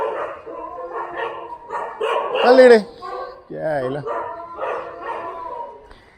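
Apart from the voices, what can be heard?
dogs barking and howling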